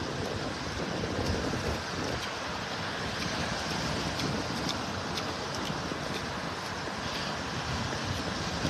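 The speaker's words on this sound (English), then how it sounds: "Watching and listening to the waves." Ocean surf washes continuously onto a beach in Naples, Florida, a broad steady roar with wind buffeting the microphone.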